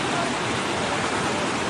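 Flood water flowing, a dense, loud, unbroken rushing roar that fills the whole moment with no pause.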